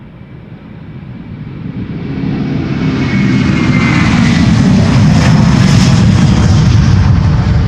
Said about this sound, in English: Delta Airlines Flight 135 to Detroit, Michigan, on its way, A330-300